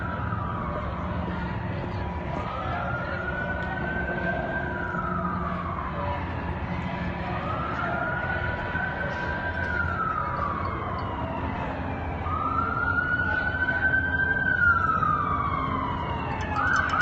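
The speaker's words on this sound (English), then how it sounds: "now an ambulance is coming" Ambulance siren during a street protest on Fifth Avenue, wailing in slow rising and falling sweeps that grow louder as it approaches over steady city traffic rumble, with no speech.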